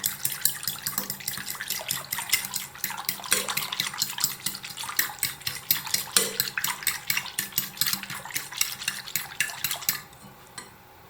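Rapid, steady clinking of a whisk against a bowl, beating eggs, milk and sugar continuously for about ten seconds before stopping abruptly.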